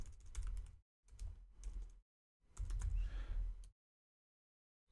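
Quick runs of computer keyboard typing in three bursts separated by short silences, close and fairly clear, ending in quiet.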